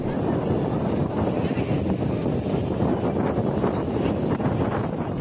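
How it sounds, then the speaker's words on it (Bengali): Strong wind from a Boishakhi storm roars at an outdoor football final, a steady, loud rush that buffets the microphone throughout. "এতটাই বাতাস আর ঝড় যে খেলা চালিয়ে যাওয়া সম্ভব হয়নি।"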